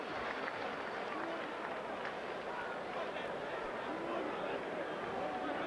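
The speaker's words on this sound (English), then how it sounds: "And the cheering just continues to build." Boxing fans in an arena keep cheering and applauding after the Chad Dawson versus Glen Johnson bout, a continuous, even roar of crowd noise without distinct claps standing out.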